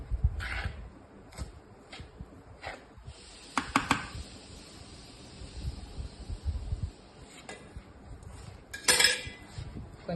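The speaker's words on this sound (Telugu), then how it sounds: "దీనిలో కొంచెం వేడిపాలండి, ఇగో కలుపుకుందాము." Rava laddu mixture being stirred with hot milk in a bowl, giving scattered metallic clinks and scrapes of a spoon against the dish, with brief sharper clatters and quiet gaps, no voices.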